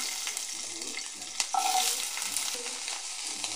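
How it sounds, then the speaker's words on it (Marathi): Onion tossed into hot oil in a kadai, a bright steady sizzle with a sudden flare-up as it hits the oil, then light stirring scrapes, close and moderately loud, with no voices. "तर याच्यामध्ये आपण कांदा टाकून घेऊया."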